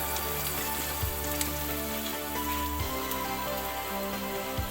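Garlic frying in butter in a pan for burger steak, a steady close sizzle with faint crackles and a low hum beneath, no talk.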